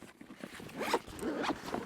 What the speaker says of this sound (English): It's got a waterproof zipper